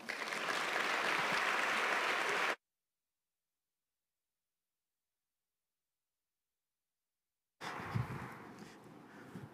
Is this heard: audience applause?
yes